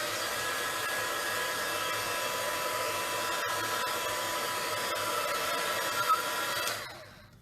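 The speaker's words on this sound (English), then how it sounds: "what I might do is dry that ink off first." A heat tool blows steadily to dry stamped ink on a papercraft scene, a loud continuous whirring hiss that runs unbroken for about seven seconds before cutting off and winding down.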